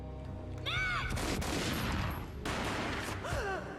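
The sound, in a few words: gunshot in the video game Max Payne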